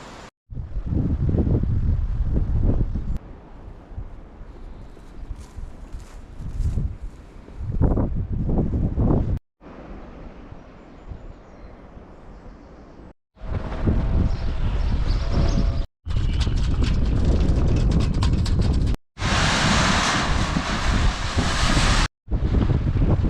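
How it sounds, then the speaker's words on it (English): Strong wind on the Suffolk coast roars and buffets the microphone in loud gusts, broken by abrupt cuts between segments. "It's really windy, and it's going to start raining soon."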